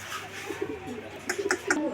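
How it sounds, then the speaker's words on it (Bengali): Pigeons in pairs at a fancy pigeon market give soft, close coos and short calls, with a few quick, brighter notes near the end over a quiet background. "প্রিয় দর্শক আমরা এই মুহূর্তে দেখতে পাচ্ছি এখানে আরও এক জোড়া কবুতর"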